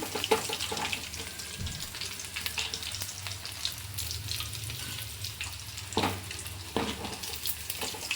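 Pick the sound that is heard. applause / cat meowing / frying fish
frying fish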